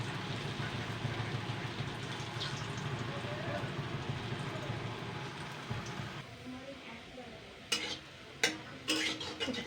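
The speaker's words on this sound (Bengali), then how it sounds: "উল্টে পাল্টে এরকম লাল লাল করে আমি ভেজে নেব।" Chana dal fritters (bora) fry in hot oil with a steady dense sizzle, dropping slightly quieter near the end as a few sharp clattering knocks of a spatula or pan are heard.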